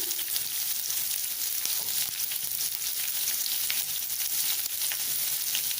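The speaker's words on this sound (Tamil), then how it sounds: "கருவேப்பிலை, பச்சை மிளகாய், வெங்காயம் போட்டிருக்கேன்." Curry leaves, green chilli and onion frying in hot oil, a dense, continuous crackling sizzle that holds steady and close throughout with faint stirring.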